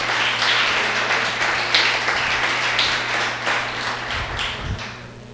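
Sustained applause from a sizable church congregation, a steady wash of clapping with a low hum underneath that fades slightly toward the end.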